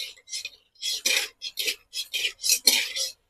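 Whole cinnamon, cloves and cardamom stirred in a cooking pan, heard as a series of short, close scraping rasps in an uneven rhythm with quiet gaps between strokes.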